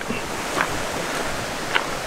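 A river, wide rather than a creek, rushes steadily along a jeep trail, a continuous broadband wash of flowing water with a few faint clicks and no voices.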